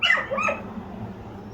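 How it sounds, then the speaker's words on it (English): A single short, sharp dog bark with a slight whimpering tail, close by, then quiet background hum. "there's one way to fix Doja from barking"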